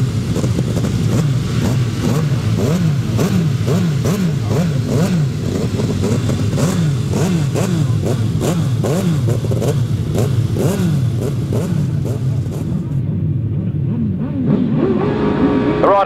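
Several grasstrack racing motorcycle engines roar and rev together at a championship race start, their pitch climbing and dipping in rapid waves, loud and close, before pulling away toward the end.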